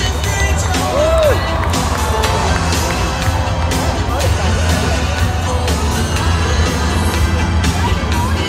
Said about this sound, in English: Give me a cheer as they come past, everyone, they can hear you.